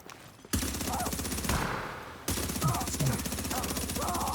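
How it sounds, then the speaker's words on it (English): Sustained rapid gunfire from The Division 2, held on continuous automatic fire: loud, dense bursts that start abruptly, break off briefly midway, then resume at full intensity. "Holding down the button, shooting from Division 2."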